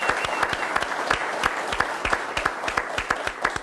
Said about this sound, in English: Thunderous applause from the live studio audience.